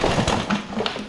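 A John Deere 14SB small engine being pull-started with the choke on gives a sharp, single pop amid a few soft tapping thuds, close and fairly loud over a quiet background.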